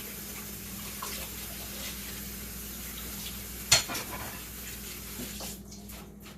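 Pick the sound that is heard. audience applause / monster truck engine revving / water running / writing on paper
water running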